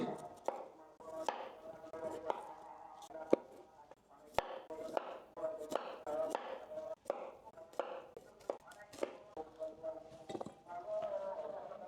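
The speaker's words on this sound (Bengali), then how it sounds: "আমি ফুলকপিগুলো সেম সাইজে কেটে নিয়েছি" A knife chops cauliflower florets on a board in a quiet kitchen, a string of crisp, fairly regular taps spread across the whole stretch, with faint breathy sounds in between.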